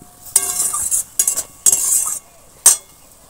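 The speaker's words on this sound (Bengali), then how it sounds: "এবার এটা একটু হালকা একটু নাড়াচাড়া করে নেব।" A utensil stirs spice paste through vegetables and pangas fish in a pan, making four short bursts of close, bright scraping and clinking separated by brief pauses.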